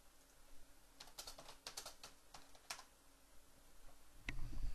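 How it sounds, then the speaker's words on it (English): Quick keystrokes patter on a computer keyboard as a short chat message is typed during an online poker game. A brief run of close, light clicks is followed by a louder thump near the end. "Just typing unlucky to a man."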